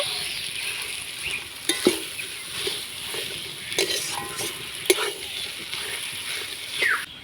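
Mashed boiled potato being stirred and mixed with vegetables in a pan, with soft scraping and a few sharp utensil knocks over a faint sizzle, moderately close.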